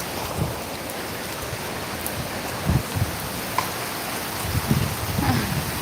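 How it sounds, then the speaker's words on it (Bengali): Steady rain falling outdoors at night, a soft even hiss of drops with a few faint taps and bumps, no voices. "এই বৃষ্টিতে বৃষ্টিতে আমি দাঁড়িয়ে দাঁড়িয়ে দেখতেছি"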